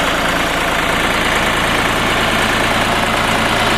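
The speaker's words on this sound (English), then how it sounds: "This diesel running." A three-cylinder diesel engine on a Ditch Witch 4010 backhoe idles close by, a loud, even chugging rumble with a fast regular pulse that holds steady throughout, with no talking.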